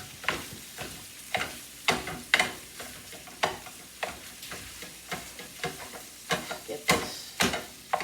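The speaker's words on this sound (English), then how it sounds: "I didn't add any oil to this pan because you don't need it with the grease of the sausage." Sausage sizzles in a pan with no added oil while a spatula breaks it up, producing rhythmic scraping and stirring strokes over a soft frying crackle; a voice speaks briefly.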